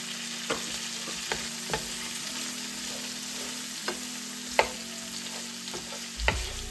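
Garlic sizzles in a pan for a shrimp and grits sauce, a steady fizzing crackle broken by several sharp clicks and taps from a utensil against the pan.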